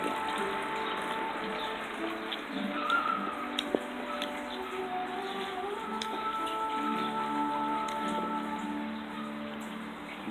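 A small indoor water fountain in a fairy-themed shop trickles and patters steadily while soft, relaxing music plays alongside it, with no talking.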